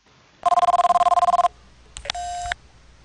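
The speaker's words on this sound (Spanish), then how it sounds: "Teléfono." Telephone ringing in the X-Files video game: an electronic ring burst of rapid pulsing tones lasting about a second, a pause, then a second shorter ring with a clicking onset, loud and close with no talk.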